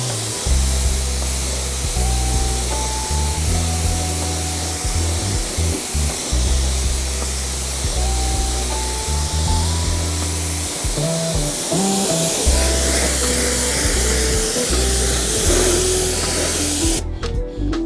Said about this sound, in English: Let's rinse it off and see how it came out.